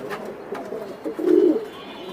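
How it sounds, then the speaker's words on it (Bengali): Caged pigeons coo close by, with soft low throaty calls that swell into one fuller coo in the middle, set against a faint background. "আজকে সুস্থ সবল কবুতর দেখাচ্ছি প্রত্যেকটা"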